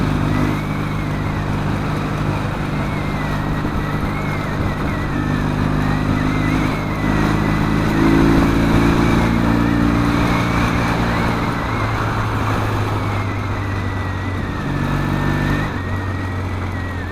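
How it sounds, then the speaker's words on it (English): An engine fitted with new silencers and a freshly tuned carburettor runs loud and close, droning steadily with rising and falling revs over the whole stretch. "since I put these silencers on and tune the carb up, there's no dead spot in the throttle or nothing"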